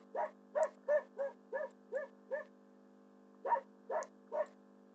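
A dog barks in two bursts, first a run of about seven quick, evenly spaced barks, then a short pause and three more, heard faintly from some distance away.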